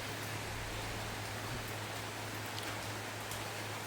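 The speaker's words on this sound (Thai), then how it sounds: "ฝนตก" Rain falls steadily around a lodging house on a day of constant rain, a soft, even hiss at low level with a faint low hum underneath and no talk.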